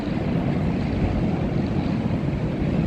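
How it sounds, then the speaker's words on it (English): Small lawnmower-engine mini bikes ridden by a group of kids on a Las Vegas street at night, giving a steady, loud low-pitched drone and rumble that fills the clip, partly buffeted by wind on the microphone. "it's a bunch of kids on mini bikes. Those are lawnmower engines."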